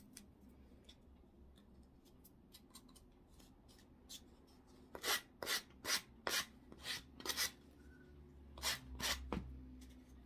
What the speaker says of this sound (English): I'm just going to see if the sanding block will smooth that out